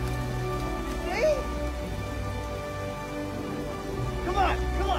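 Rain falls steadily, a constant patter and hiss across the whole clip in a film scene, with faint vocal sounds in the background.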